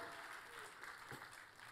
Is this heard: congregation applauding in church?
yes